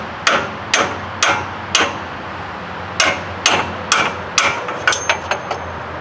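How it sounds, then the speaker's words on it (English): A hammer knocks a socket onto the steering box shaft of a Duramax truck in a cramped space under the vehicle, about a dozen sharp metallic strikes in an irregular rhythm, close and loud with no talking. "try to hammer it up on the steering box shaft just a little bit"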